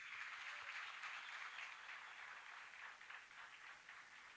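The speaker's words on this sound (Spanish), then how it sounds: "Aplauso para Venezuela" Steady crowd applause for Venezuela at a political event, continuous even clapping throughout at moderate distance with no speech.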